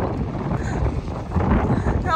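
Steady wind buffets the microphone outdoors at the harbour in Victoria, Canada, a continuous low rumble that fills the clip.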